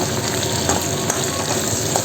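Green chillies and finely chopped onions fry in a hot pan with a dense, steady sizzle and occasional stirring scrapes, loud and close, with no voices.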